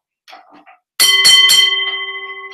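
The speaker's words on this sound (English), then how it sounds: "Let's hit the opening bell" Three quick, loud metallic strikes of a wrestling opening bell ring out after a brief faint sound, then the tone rings on and slowly fades.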